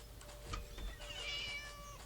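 A cat meows in the video game Scary Teacher 3D, a faint drawn-out cry over a low, steady game background.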